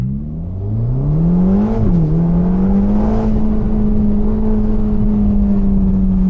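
Ferrari Roma Spider 3.9L V8 with an 8-speed F1 dual-clutch gearbox accelerates hard in first gear, a loud close engine note climbing in pitch with a brief dip partway, then holding high and steady.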